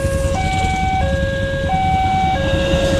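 An ambulance siren wails at a railway level crossing in Rangkasbitung, Banten, loud and close, with a two-tone pattern stepping steadily up and down over the constant rumble of road traffic.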